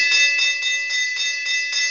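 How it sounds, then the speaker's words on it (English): A victory bell rings close and loud, its bright metallic tone sustaining continuously while repeated strikes pulse through it at a quick, steady rhythm, with no voices. "We got to ring the victory bell."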